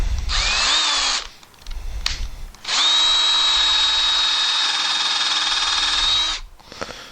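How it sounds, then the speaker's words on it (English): A power drill whirs loudly in two bursts while drilling a pilot hole for a screw during a pocket door installation, a short run followed by a longer steady spin lasting several seconds, close by with faint handling noises between. "it's going to drill a pilot hole for the screw"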